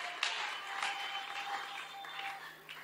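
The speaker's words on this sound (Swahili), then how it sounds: "Est-ce que nous pouvons acclamer pour cette parole?" A church congregation applauds at a Christian convention in Kasenga: a steady, fairly faint wash of many hands clapping together, continuous throughout with a few sharper peaks.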